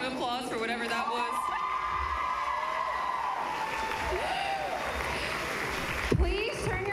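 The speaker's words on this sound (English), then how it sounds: "Can we get another round of applause for whatever that was?" A school pageant audience applauding and cheering, with whoops and shouts rising over a steady bed of clapping and crowd noise.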